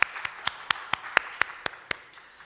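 A church congregation claps in a steady, evenly spaced rhythm, about ten sharp unison claps in a quiet room.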